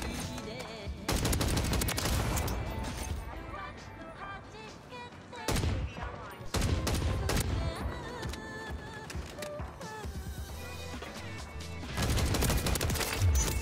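A Sidewinder gun firing in Call of Duty: Modern Warfare 3, loud rapid automatic bursts in several separate strings with short gaps between them, set against a busy game soundscape.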